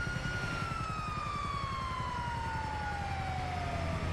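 Ambulance siren in the video game GTA V, a continuous wailing tone sliding slowly downward over a low engine rumble, loud and steady with no voices.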